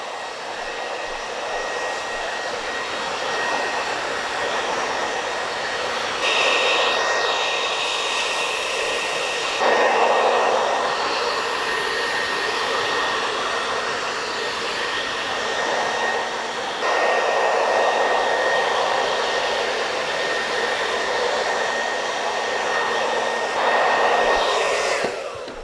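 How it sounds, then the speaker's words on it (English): A hair dryer runs on medium speed and high heat, drying freshly cut short curly hair, as one continuous loud, close whir with slight shifts in tone and no talking. "Medium speed, high heat. I'm just going to dry this off."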